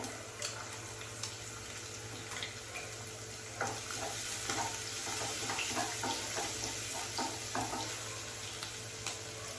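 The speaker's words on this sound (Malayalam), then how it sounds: "ഇതിലേക്ക് കുറച്ച് വെളുത്തുള്ളി ഇട്ട് കൊടുക്കാം കുറച്ച് എണ്ണ ഒഴിച്ചു കൊടുത്തിട്ടുണ്ട് കേട്ടോ" Garlic frying in oil in a pan, a steady sizzle with scattered clicks and scraping stirs, close and continuous with no one talking.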